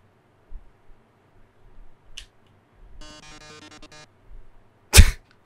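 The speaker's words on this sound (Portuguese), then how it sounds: "Tosse robótica." A short burst of buzzy, harmonic electronic coughing from a robot in the video game Undertale, followed by a sharp, loud noise burst, set against quiet, sparse background sounds.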